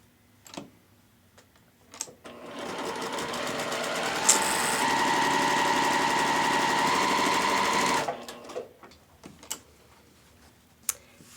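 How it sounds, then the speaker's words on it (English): A sewing machine with a 1/4 inch foot stitches a quarter-inch seam down the side of quilt block fabric, running steadily for about four seconds, close and even, framed by light handling clicks and rustles before and after. "using a 1/4 inch seam allowance, sew down the side."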